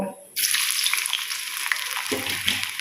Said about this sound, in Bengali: পাঁচফোড়নগুলো ফুটে গেছে এর মধ্যে আমি একটু পেঁয়াজ দেব